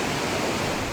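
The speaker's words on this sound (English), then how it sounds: "it's absolutely pouring down with rain" Heavy rain pours down on Petaling Street in Kuala Lumpur, a dense, steady broadband hiss with no voices.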